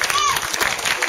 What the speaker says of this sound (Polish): Brawa, oczywiście.